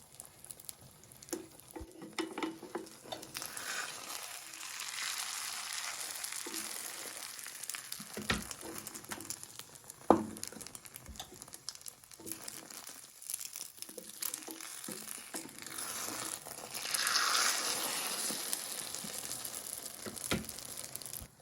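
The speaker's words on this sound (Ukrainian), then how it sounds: "і тепер яйця виливаємо на розігріту пательню" Steady sizzling and crackling of beaten eggs poured into a preheated pan for an egg pancake, with occasional scraping and clatter, no voices.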